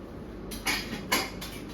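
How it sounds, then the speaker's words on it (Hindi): Dishes and utensils set down to soak for washing in a home kitchen: two sharp metallic clinks over a soft, steady background, close and moderately loud with no voices. "लेकिन बर्तन धुलने को डाल दूंगी"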